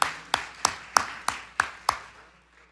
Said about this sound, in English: And also one more round of applause to each of you for making the trip to be here today.